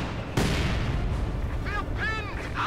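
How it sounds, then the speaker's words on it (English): Mortar bombardment in Company of Heroes 2, a sharp game explosion boom that rings out over a steady battle rumble, followed by shrill whistling tones, while a commentator talks throughout. "Mortar continues to bombard in hopes of hitting something"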